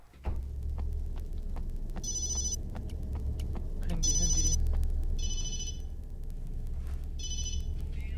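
A mobile phone rings in the horror video game Obscure, its electronic trill sounding in four short bursts over a low droning hum and rumble.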